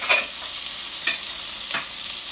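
Sweet and green peppers frying in a hot pan while being stirred and tossed, a steady close sizzle with a few sharper scraping strokes from the spoon, no talk.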